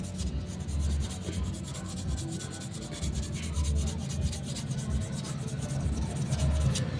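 Sandpaper rubs over a part of an Asahi stand fan under repair, a steady close scratchy rasp repeated in back-and-forth strokes, with no voices over it.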